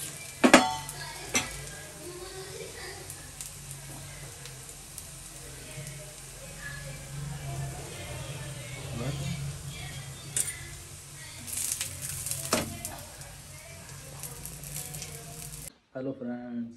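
Methi parathas with extra onion frying in a pan, giving a steady sizzle with occasional stirring and clinks of cookware throughout, close and moderately loud, ending abruptly.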